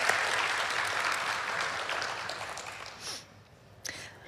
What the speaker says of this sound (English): Could we please thank them with our applause?